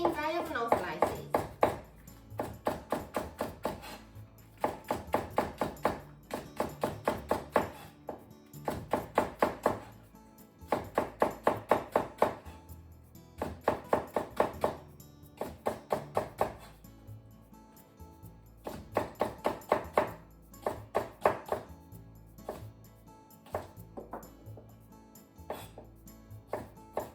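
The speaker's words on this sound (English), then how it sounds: "Negi into thin diagonal slices." A knife slicing Japanese leek (negi) into thin diagonal slices on a cutting board, a steady run of close, crisp taps in quick bursts with short pauses between them.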